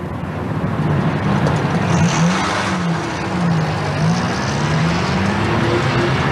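A car pulls away in an old radio drama sound effect, its engine climbing and falling in pitch through several gear-like sweeps at a moderate distance, with a steady broadband rumble underneath.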